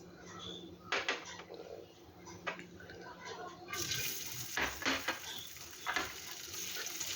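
Chopped cashew nuts roast in ghee in a pot with a soft, steady sizzle, broken by scattered stirring scrapes and clinks that are fairly quiet and close.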